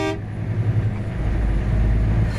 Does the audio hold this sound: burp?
no